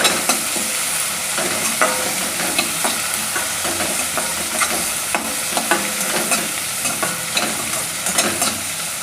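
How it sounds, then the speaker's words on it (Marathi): Tomatoes sautéing in a pan for a sprouted moth bean usal, a loud close sizzle punctuated by regular spatula scrapes and stirs in an even rhythm, with no talking. "टोमॅटो पण 1 मिनिटभर छान परतून घ्यायचा अगोदर।"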